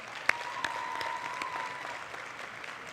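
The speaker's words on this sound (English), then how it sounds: "So let's give them another round of applause." A conference audience at a global students research conference applauding ambassadors, a faint, distant patter of crowd clapping with a few sharper claps and a thin tone beneath.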